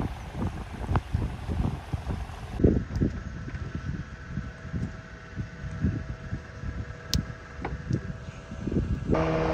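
A motorboat crosses the Kumarakom backwater in Kottayam, Kerala. Its engine drones close by under gusty wind buffeting the microphone, with low thumps of water slapping the hull.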